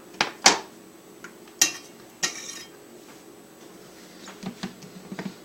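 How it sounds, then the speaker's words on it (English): Bean mixture with peppers, onions and corn is spooned onto a breakfast pizza: a few sharp metal-spoon taps and scrapes against a dish, close and quiet, followed by softer small clicks. "I'm going to put some beans on this"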